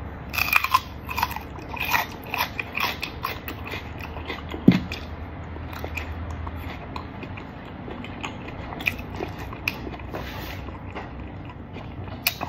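Raw onion being chewed up close: repeated crunchy bites and wet mastication run steadily throughout, with one sharper crunch about a third of the way in and no talking.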